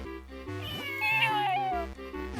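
A cat meows in The Legend of Zelda: The Minish Cap, a short rising and falling game-style meow heard over steady, chiptune-like background music.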